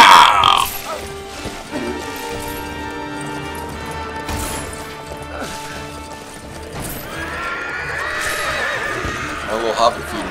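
Horses whinny loudly and hooves clip-clop in a Lego Lord of the Rings video game, with crashing effects and someone talking over the game sounds throughout.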